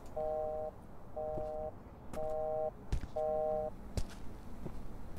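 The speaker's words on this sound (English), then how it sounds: "isn't that the noise when the phone line gets cut off?" A telephone line's cut-off tone: four steady, evenly spaced beep bursts with short gaps between them, moderately loud. A few faint thuds and knocks sound in the background.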